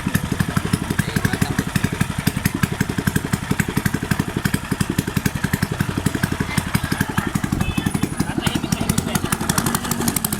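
A loud, raw boat engine with no muffler runs steadily at low speed with rapid pulsing exhaust beats and rattling clatter, unmuffled and close.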